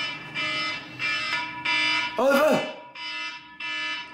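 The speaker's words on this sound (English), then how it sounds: "I don't know if you can hear her alarm going." An alarm beeps in repeated bursts of about half a second with short gaps, loud and close, while a voice shouts over it partway through.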